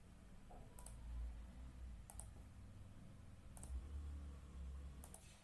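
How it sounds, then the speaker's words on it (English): Four crisp computer mouse clicks land at evenly spaced intervals, each a quick double snap, quiet and close over a low room hum. "I click the data tools"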